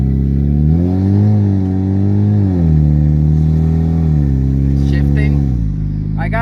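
A Chevy Cruze running a Fueltech 450 ECU accelerates hard from inside the cabin, its engine drone climbing in pitch, dropping at each gear shift and climbing again, loud and close.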